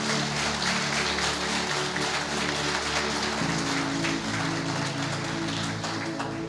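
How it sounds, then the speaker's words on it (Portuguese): A church congregation claps steadily in a dense, hissing wash of applause that sounds almost like heavy rain, with sustained music tones running underneath throughout. "Se você acredita, aplauda bem forte o nome de Jesus."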